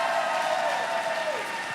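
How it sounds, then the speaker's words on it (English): A live show audience applauds together, a moderate wash of clapping with a tone sweeping through it and a faint voice underneath; it fades slightly toward the end. "Give yourselves a round of applause for making it out."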